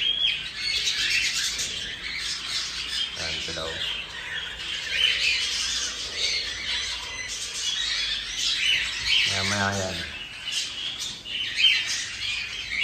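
Cockatiels in breeding season chirp and squawk repeatedly at close range, with shrill calls throughout and a short harsh buzz in the middle, while someone speaks briefly over them.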